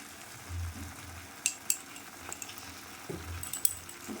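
Khoya thickened from milk fries in a spoonful of ghee in a pan while being stirred. Soft, low sizzling runs under a few faint clinks and scrapes of the spoon against the pan, heard nearby and without voices.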